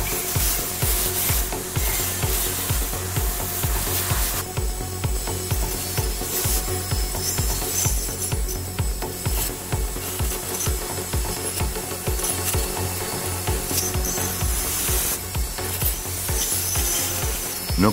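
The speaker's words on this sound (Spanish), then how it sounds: "Con un esmeril de banco limpiamos todo, incluyendo la suciedad y grasa." A bench grinder scrubs dirt and grease off a Chevy brake caliper with a loud, continuous abrasive rasping and a rhythmic pulsing whir, close and steady for the whole stretch.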